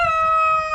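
A rooster crows in one long sustained call, close and loud, its bright harmonic tone holding steady before fading at the end.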